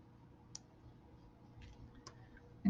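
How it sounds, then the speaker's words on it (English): Wire cutters snip excess beading wire on a rose quartz and copper necklace, giving a few faint, sharp clicks close by in a quiet room. "Cut off our excess wire"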